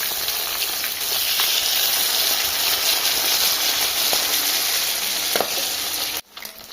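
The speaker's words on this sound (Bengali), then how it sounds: "এবার একে একে মাছগুলো এখানে ভাজা হয়ে গেছে, এবার ওপরগুলো উল্টে দেবো।" Loud, continuous sizzle of katla fish frying in a pan of hot oil, a dense hiss that cuts off abruptly just before the end.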